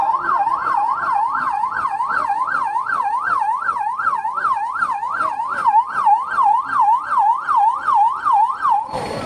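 An ambulance siren sounds at a civil defence mock drill in Davangere, a loud, close, steady rising and falling wail that repeats without a break and ends in a short burst of rougher noise.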